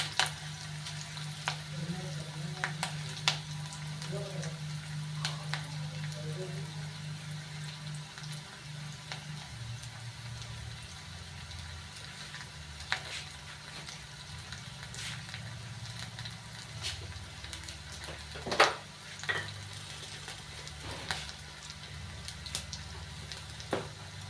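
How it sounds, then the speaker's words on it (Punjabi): Onions fry in a pan over a moderate flame for a pumpkin curry, a steady, low sizzle with occasional small crackles and clicks running throughout. "ਪਿਆਜ਼ ਨੂੰ ਆਪਾਂ ਨਾਰਮਲ ਫਲੇਮ ਤੇ ਥੋੜਾ ਥੋੜਾ ਭੁੰਨੀ ਚੱਲਾਂਗੇ"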